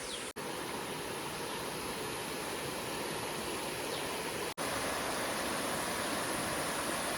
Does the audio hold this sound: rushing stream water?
yes